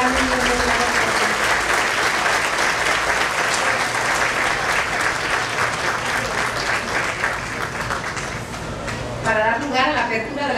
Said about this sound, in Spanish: Por favor, démosle un fuerte aplauso a todos los grandes miembros de la Corporación.